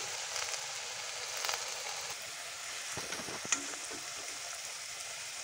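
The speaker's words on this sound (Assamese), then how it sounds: "বাকী পিঠাখিনি যি আছিলে সেয়া এতিয়া আকৌ কেৰাহীত দি দিয়া হৈছে" Pitha fries in oil in a kadai, a soft continuous sizzle with a few louder crackles and the scrape of stirring partway through.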